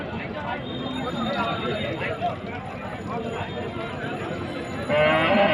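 A calf at a busy cattle market in Joynagar, South 24 Parganas, with a short lowing call near the end, rising over steady crowd noise and people talking.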